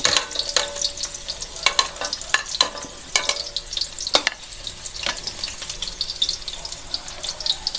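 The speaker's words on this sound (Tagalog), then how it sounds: "hintayin po natin mag-brown ng konti ang ating bawang at sibuyas hanggang sa lumabas ang kanyang aroma" Chopped onion and garlic sautéing in olive oil for pancit canton, a close, steady sizzle broken by scraping stirs and sharp clicks of a utensil against the pan.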